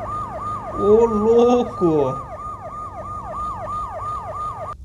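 Ambulance siren wailing in a GTA-style motorbike and car video game, a clear repeating rising-falling tone, loud and close, with a second siren pattern briefly overlapping early on and a voice talking over it.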